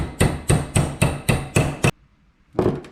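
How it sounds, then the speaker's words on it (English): A metal brake line clamped in a vise is struck with a hammer during rear brake line work: seven loud, evenly spaced blows, a short silence, then one more strike. "Right, let's go hammer."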